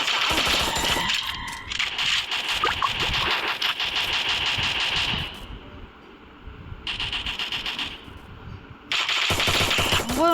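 Rapid automatic gunfire in a shooting video game, dense loud bursts of shots lasting several seconds with a short gap, then more bursts, close and sharp.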